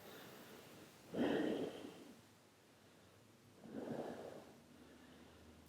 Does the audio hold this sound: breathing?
yes